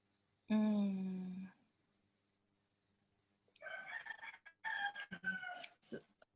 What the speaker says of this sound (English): I love your rooster in the background also.